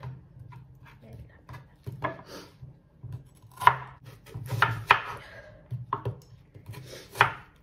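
A knife taps and slices through a thawed pastry sheet for msemen on a cutting board, several irregular cuts close by, with low background hum between strokes.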